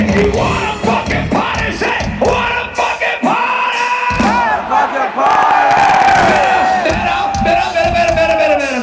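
A large festival crowd at Rock On The Range 2016 roars back, a loud, dense wall of yells, whoops and cheering that swells into a sustained chant-like shout.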